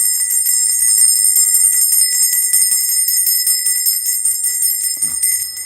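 A loud, sustained high-pitched bell rings continuously with a steady metallic shimmer, no voices heard.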